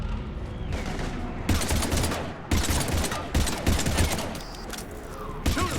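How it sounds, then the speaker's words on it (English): Heavy automatic gunfire in the video game Mass Effect Legendary Edition, dense overlapping bursts of rifle fire and impacts with short pauses between volleys, loud and close throughout. "we're taking heavy fire"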